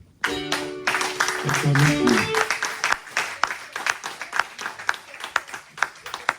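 A church congregation bursts into applause after a musical sting, with a dense wave of clapping that gradually thins into scattered, uneven claps.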